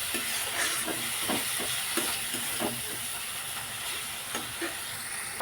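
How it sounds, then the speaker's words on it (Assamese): Spices with cumin powder fry in a pan while preparing fish, giving a steady loud sizzle and hiss throughout with scattered small crackles and stirring taps, close up and without talk. "মছলাখিনি ফ্ৰাই কৰি ল'ম অলপ ভালকৈ"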